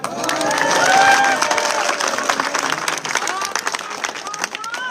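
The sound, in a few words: crowd applauding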